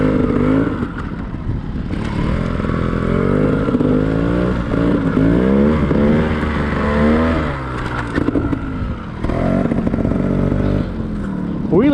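Trials motorcycle engine revving and blipping up and down in short bursts, close by, with clattering and scraping as it rides over rough ground while people talk over it.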